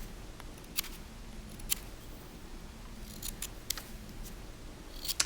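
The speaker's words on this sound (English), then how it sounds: "make a stop cut at the top and the bottom of the mushroom cap, and then start stripping away the stem of the mushroom" A knife making stop cuts while whittling a small wooden mushroom, giving faint, sparse clicks and scrapes of the blade against wood over a steady low background hum.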